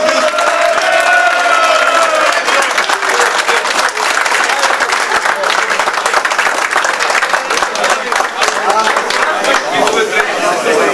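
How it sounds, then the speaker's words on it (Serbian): A crowd at a village football tournament claps loudly and continuously for a winning team, dense overlapping hand claps filling the whole stretch, a few voices briefly audible near the start. "jedan aplauz za njih"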